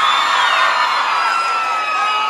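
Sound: crowd applauding and cheering at a concert

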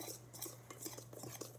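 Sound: whisking brownie batter

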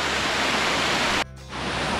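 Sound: river waterfall cascading into pools

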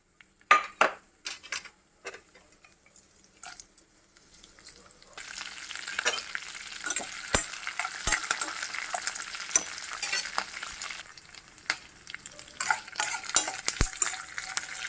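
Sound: frying lentils tempering in oil

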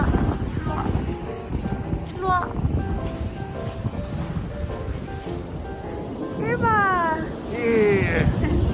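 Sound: cold wind blowing

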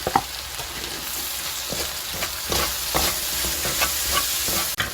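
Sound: stir-frying squid with green onions in a pan

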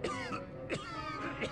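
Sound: coughing in the video game Bravely Second

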